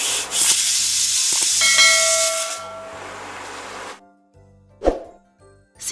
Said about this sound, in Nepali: अब एकदमै लो हिटमा प्रेसर कुकरको 3 देखि 5 सिटी लाग्नु पर्छ